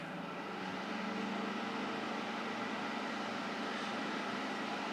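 Steady, even broadband whoosh of a Clean-tech air purifier fan running on high, a constant airy hum with no talking.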